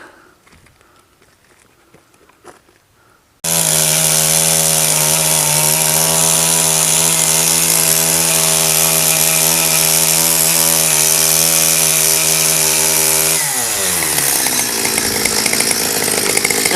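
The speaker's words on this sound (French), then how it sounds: "quand t'as la tronçonneuse et que t'es en train d'accélérer" A chainsaw roars to life after a quiet start, running loud and steady at high revs while cutting a tree trunk, before easing its pitch slightly near the end.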